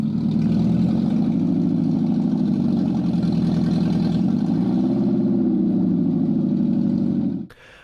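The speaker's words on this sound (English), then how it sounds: "I did take it for a nice little drive without any cat pipe or muffler hooked up just to see what it was like" A 2001 Toyota MR2 Spyder engine runs with no catalytic converter or muffler, a loud, steady raspy drone with a slight rise and fall in pitch, close by, before cutting off abruptly near the end.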